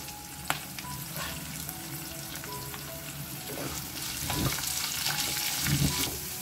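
Onions and curry leaves frying in hot oil in a pan, a continuous close sizzle that swells louder toward the end, with a few stirring scrapes and no voices.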